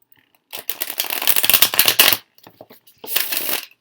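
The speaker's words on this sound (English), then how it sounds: "It shuffles pretty good, this little deck here" A small tarot deck being shuffled by hand, bursts of rapid papery riffling and flicking lasting a couple of seconds, a short pause, then another shorter shuffle, close and fairly loud with no talking.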